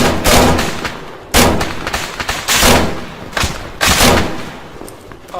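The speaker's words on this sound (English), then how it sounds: "Enemy fire!" Heavy gunfire in the military video game Arma, with repeated loud bursts of shots and booming impacts recurring every second or so, dense and close across the whole stretch.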